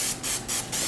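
Cooking spray hisses onto an omelet in a pan for a diner-style omelet, in three short close bursts with brief pauses between them.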